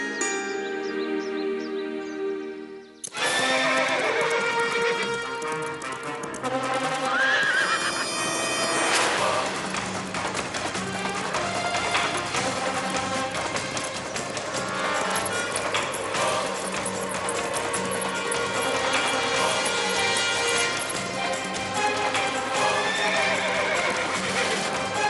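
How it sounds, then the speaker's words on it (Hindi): A horse in a forest neighs and its hooves clip-clop amid a dense, loud dramatic music score that runs almost throughout, after a brief quieter opening. "इस जंगल में ये घोड़ा क्या कर रहा है?"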